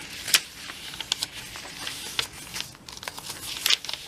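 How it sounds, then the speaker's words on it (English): Glittery paper pages, lined, graph and tea-dyed card stock in a handmade journal being handled, with several sharp crinkles and rustles scattered over a quiet background. "It's a beautiful paper with some glitter on it."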